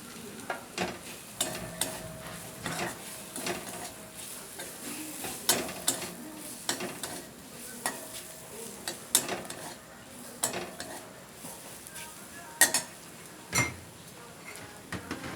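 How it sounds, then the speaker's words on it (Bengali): A vegetable filling with garam masala is stir-fried in a pan under a low, steady sizzle, while a spatula scrapes and clinks against the metal at irregular intervals, close up and with no voices. "এবার এটাকে দিয়ে ভালো করে কষিয়ে দিতে হবে আর দেবো এক চিম হাফ চামচের মতো একটু গরম মশলার গুঁড়ো"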